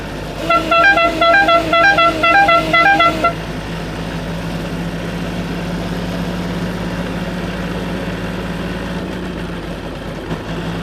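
A loud multi-tone horn toots a quick melody for a few seconds, then the engine of a modified TVS 50 motorbike, built to resemble a Royal Enfield, idles steadily up close.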